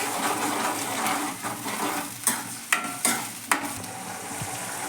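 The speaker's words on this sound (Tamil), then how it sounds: "நல்லா பச்சை வாசனை வர போகிற அளவுக்கு கிண்டணும்" Ground tomato and onion masala fries in a pan while being stirred, a soft continuous sizzle broken by a few sharp scraping clicks of the spoon against the pan, close and fairly quiet.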